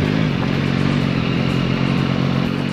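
An overloaded motorcycle labors up a steep road on a long-distance tour, its engine a steady, close, continuous drone with some rattling clatter and no pauses.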